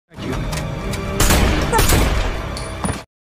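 Pistol gunshots ring out in a tense film scene, a dense burst of loud shots and booms over continuous noisy action for about three seconds.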